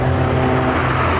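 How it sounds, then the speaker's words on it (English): A Volkswagen Golf with a trumpet-like exhaust revs loudly nearby at a retro car show, its brassy, blaring exhaust note droning steadily for a moment. "There goes a Volkswagen Golf with a trumpet for an exhaust."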